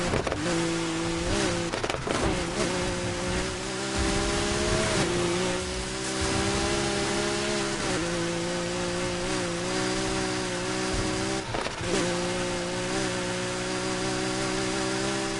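A Lamborghini driven off-road in Need for Speed Heat, its engine holding a steady rising drone with shifting pitch and brief rough bursts over terrain, loud and continuous with no talk.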